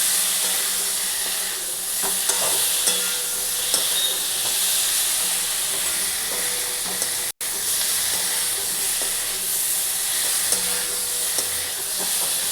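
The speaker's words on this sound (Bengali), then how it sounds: "কপি আলুটাকে দিয়ে ভালো করে ভেজে নেব" Cauliflower and potato fry in hot oil with a steady, loud hiss and crackle that continues throughout, broken only by one very brief cut in the sound.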